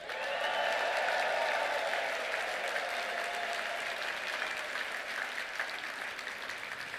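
Sustained audience applause at a health product presentation, a dense steady wash of clapping that stays loud and even for the whole stretch, with a faint crowd murmur beneath.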